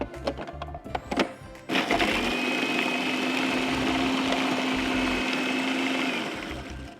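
A blender whirs steadily for several seconds, coarsely mixing biscuit crumbs, butter and walnuts for a pistachio icebox cake, with a few clattering knocks before the motor starts and a short tail after it stops.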